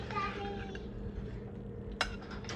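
A slotted spoon scooping buttered green beans from a pan, with soft metal scrapes and one sharp clink near the end, under low kitchen background and a person talking.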